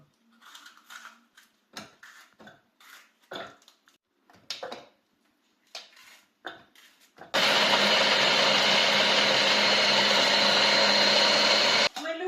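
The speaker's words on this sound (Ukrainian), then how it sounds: "Все це скидую в блендер і перемелюю." Kitchen blender grinding garlic and hot peppers with their seeds, starting after a stretch of someone talking and then running as a loud, steady whirring roar for about five seconds before cutting off.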